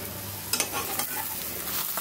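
An egg frying in a pan gives a close, continuous sizzle, broken by a few short scraping bursts of stirring over about two seconds.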